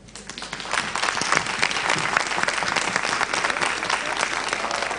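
An audience at a teachers' education conference opening ceremony claps in a broad, sustained round of applause that stays loud and dense throughout.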